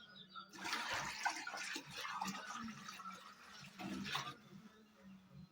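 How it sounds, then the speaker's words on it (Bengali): Water splashes and trickles steadily into a washed container for about four seconds, quiet and close, then stops, leaving faint room noise. "নিয়ে এতে আমার খানিকটা জল বাড়াতে হবে।"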